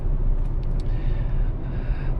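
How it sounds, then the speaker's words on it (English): Steady low rumble of tire roll inside a 2023 Honda WR-V while driving, a constant broadband road noise heard from the cabin at moderate level with no voices. "you can hear quite a bit of tire roll"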